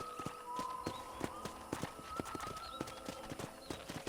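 A horse's hooves clip-clop in a steady walking rhythm in Red Dead Redemption, crisp and close, with faint whinnies and low game ambience behind the repeated beats.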